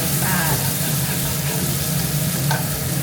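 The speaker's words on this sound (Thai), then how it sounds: "ทอดผัดไส้กรอกให้มัน หอมกรอบ" Sausages stir-fried in a pan, a steady dense sizzle and crackle of hot oil throughout, with a couple of faint clinks of the utensil against the pan.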